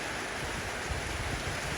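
Rain pours down steadily on elephants outdoors, a dense continuous hiss of falling water with no pauses and no voices.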